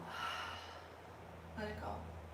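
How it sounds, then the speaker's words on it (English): A soft, audible exhale during a guided breathing exercise, following a breathy spoken cue and fading out gently, with a quiet low hum underneath. "Inhale, fill up as much as you can. And exhale."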